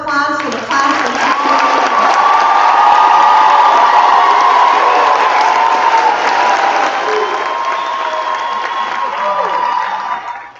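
A large audience at a high school graduation ceremony breaks into loud, sustained applause mixed with cheering and whoops, filling the hall steadily for about ten seconds before tapering off.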